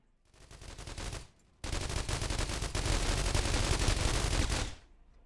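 Automated turrets fire sustained, rapid bursts of gunfire in the video game The Walking Trade: a short volley, a brief gap, then a longer dense barrage of loud shots that cuts off abruptly.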